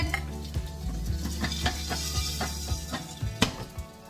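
Mustard seeds and curry leaves with hing pop under a lid in a covered pan of hot oil. Loud, continuous frying hiss is punctuated by frequent sharp pops and taps, heard close with no voices.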